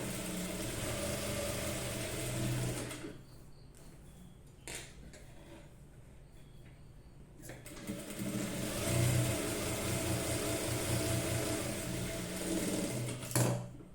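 A sewing machine stitches along one side of a folded fabric strip for a neckline, running in loud bursts with a quieter pause in the middle and sharp clicks between runs.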